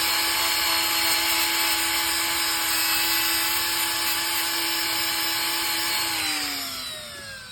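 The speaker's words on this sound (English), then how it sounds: "But the wire wheel is just an overall better tool." Wire wheel on a power tool cleaning the lower intake manifold of a 1995 Mustang, a loud, steady high-pitched whine that drops in pitch and fades as the tool winds down at the end.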